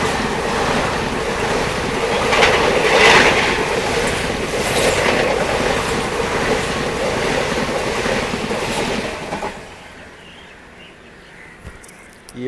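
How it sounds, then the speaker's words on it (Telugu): A fast express train on an Indian railway line rushes past, producing a loud, roaring rumble and rattle that builds and holds for about nine seconds, then drops away abruptly to quieter background. "ఈ ఒక్క ట్రైన్ అబ్బా చాలా ఫాస్ట్గా క్రాస్ తీసుకోవడం జరిగింది."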